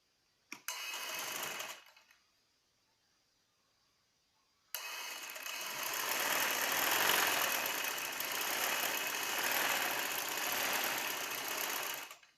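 A sewing machine stitches the yoke of a baby frock in two runs, a short burst and then a long, steady, close whirring hum that holds evenly for several seconds before stopping.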